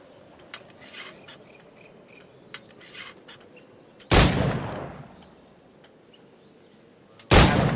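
Two loud, sharp gunshots ring out roughly three seconds apart from a firearm in Assassin's Creed 4. Each blast is followed by a decaying echo, and quiet clinks and insect-like chirps fill the gaps.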